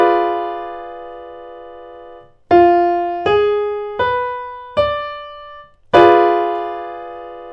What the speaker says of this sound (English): And the full diminished will sound something like this.